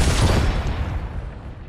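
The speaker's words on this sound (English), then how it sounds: "Oh, someone's shooting." Dense burst of rapid gunfire in a Fortnite match, a loud clattering volley that starts strong and trails off over under two seconds, with no talking.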